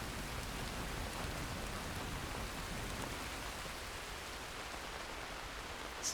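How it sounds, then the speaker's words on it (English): Steady rain falling in Red Dead Redemption 2, a dense even hiss of downpour holding at constant low volume throughout with no distinct drops or thunder, and no voices. "We're going to camp and wait out the rain."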